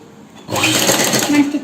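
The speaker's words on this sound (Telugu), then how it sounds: "ఇలా సెంటర్కి మనం స్టిచ్ వేసుకుందామండి" A sewing machine runs in a steady close whir as it stitches small frills onto satin cloth for a lehenga, starting after a short quiet pause and carrying on to the end with a voice briefly over it.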